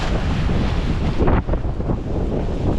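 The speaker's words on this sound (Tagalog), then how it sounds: "Ayun ang alon." Ocean waves surge and crash amid heavy wind rumbling against the microphone, with a brief lull midway.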